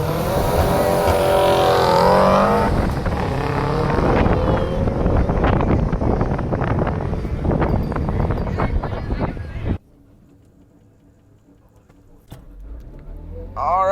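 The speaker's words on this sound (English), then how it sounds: "I'm going to try to power brake." A Toyota Prius held on the brakes at a drag strip, engine revving loud and steady with strong wind buffeting for about ten seconds, then cutting abruptly to a low idle hum before a brief rise at the end.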